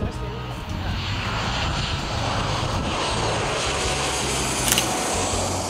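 A fixed-wing airplane passes over an airport, its steady engine roar broad and loud, holding throughout the nearly six seconds with a low droning hum underneath.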